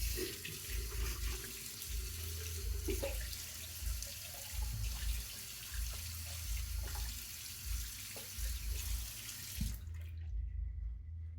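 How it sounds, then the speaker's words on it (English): A bathroom water tap runs steadily into a sink while someone rinses their face after a shave, giving a close, continuous splashing rush with small shifts in the flow before it is shut off abruptly near the end. "Let me rinse my face"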